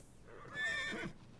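A horse in a video game gives a single whinny of about half a second, moderately loud and close, over a low background of game ambience.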